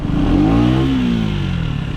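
A 2025 KTM Duke 125 with its stock Euro 5+ exhaust revs up close by, the engine tone rising and then falling away into a steady, slightly rough idle.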